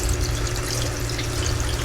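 Water is poured into a pot of tomato beef stew, a steady splashing gurgle heard close and alone for a couple of seconds.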